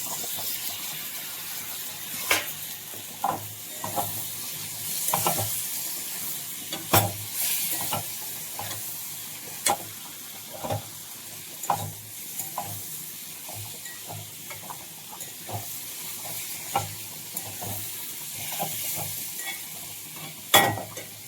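Cauliflower and carrots fry in hot oil for vegetable khichuri, a steady sizzle under repeated scraping stirs of a spoon against the pan, close and fairly loud, with no talking.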